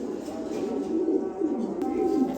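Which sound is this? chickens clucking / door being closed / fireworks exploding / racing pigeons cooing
racing pigeons cooing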